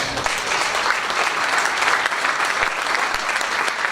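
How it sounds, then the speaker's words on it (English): Steady, dense applause from a large audience at an evening fundraising event for education, loud and sustained throughout with no pauses. "give yourself a round of applause"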